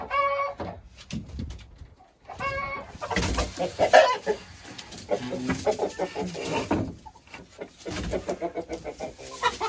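Three broody hens sitting together on a nest cluck and murmur up close, giving a run of uneven, choppy clucks with short pauses between them.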